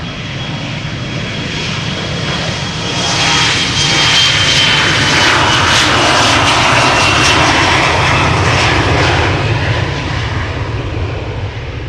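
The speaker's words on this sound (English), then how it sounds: "KLM Embraer 175 going to Linköping" A KLM Embraer 175 jet departing Amsterdam Schiphol on its takeoff roll, engines roaring steadily and swelling in the middle as the aircraft passes close, a broad loud rumble with a thin whine above it.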